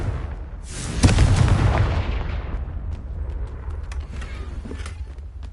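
Explosion from the Confringo fire spell in a video game: one loud close boom that bursts out and then rolls off into a long fading rumble with scattered crackles.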